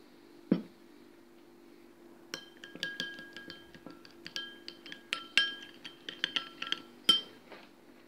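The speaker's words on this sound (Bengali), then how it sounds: "ডিমটা মিক্স করে নিচ্ছে 2 চামচ দুধ দিয়ে, তাহলে ভালোভাবে মিশে যাবে।" Eggs are mixed with two spoons of milk in a bowl for fruit custard, with a utensil giving a bright clink first and then rapid light ringing taps against the bowl, quiet and close.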